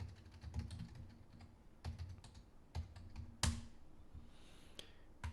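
Quick clacks from a computer keyboard being typed on, a sharp burst of keystrokes with short pauses, close and clear over a low steady hum, with no voices.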